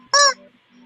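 A person's voice imitates a chicken with one short, loud, nasal squawk, close up and alone, followed by quiet.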